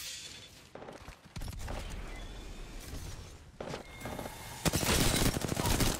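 Gunfire from an Apex Legends match: rapid bursts and single shots crackle loudly and almost without pause, with heavier volleys building near the end and a faint voice now and then underneath.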